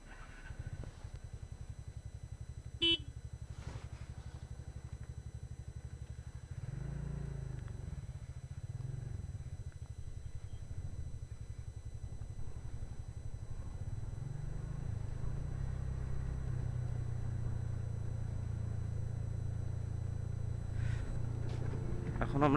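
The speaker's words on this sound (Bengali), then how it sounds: "এখন আমরা পাহাড়ি রাস্তা দিয়ে ড্রাইভ করছি।" A TVS Ntorq scooter hums along a hilly, broken road, its mid-pitched engine droning steadily and swelling at times while wind and road noise run underneath.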